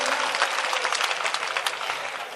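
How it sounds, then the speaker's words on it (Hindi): Loud, dense applause from an audience at a Hindi poetry recital, steady hand-clapping filling the whole stretch without pause. "अगर आप सब सुनना चाहते हैं तो एक बार जोरदार तालियां बजाकर मुझे रोक देते हैं।"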